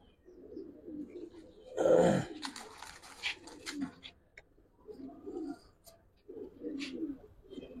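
Giribaz pigeons coo in repeated low throaty bursts inside a loft, close and fairly quiet, with a louder rustling flurry early on and short pauses between the calls.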